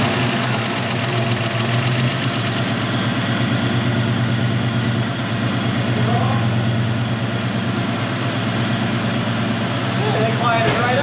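A Ford Fox body Mustang engine, just repaired, runs at a steady close idle with a low rumbling drone and faint mechanical ticking throughout, loud and continuous.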